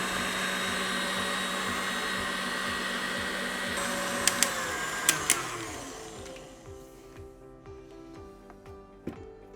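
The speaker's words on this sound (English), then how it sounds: "I'm going to increase the speed to 10 until stiff peaks form." Electric mixer whisking meringue at high speed toward stiff peaks, a steady loud whine with rhythmic beater ticking, a few sharp clicks, then the motor tone shifts and eases near the end.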